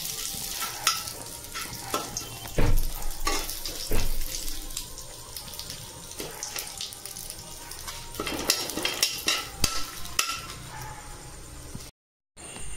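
Bay leaves and dried red chilies fry in oil in a kadai for mango pickle, a steady close sizzle broken by repeated stirring scrapes and clatters, with a brief silent gap near the end.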